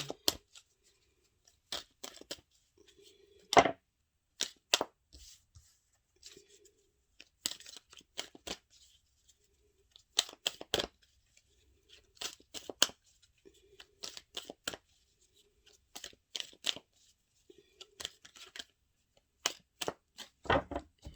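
A deck of tarot cards being shuffled and cut on a table, bursts of riffling and slapping card sounds separated by short pauses, close and fairly quiet with no talking.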